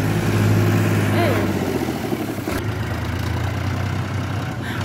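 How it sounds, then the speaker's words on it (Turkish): A tractor rumbles past on a village road in Osmancık, Tire, İzmir, with a steady low engine drone and a shift midway, close by while people talk over it. "Traktör geliyor. Biz kenara çekilelim."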